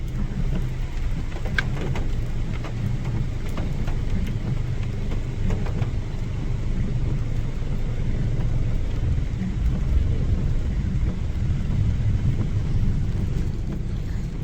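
Heavy rain pours steadily over an Uttarakhand village, a dense, constant wash of falling water close by with no voices, lasting throughout.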